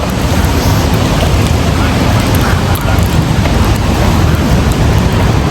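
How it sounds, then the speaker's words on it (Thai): Rain falling at an outdoor market behind a building near Bangkok's airport, a dense, loud, continuous hiss and patter with wind-like rumble throughout and no clear voices. "วันนี้บรรยากาศไม่อำนวยเธอฝนตก"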